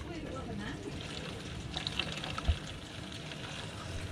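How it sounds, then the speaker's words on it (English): Hot water runs through a caravan's water system during cleaning and bleeding, a faint continuous hiss and trickle with a few small knocks. There is no speech. "Just let the hot water through."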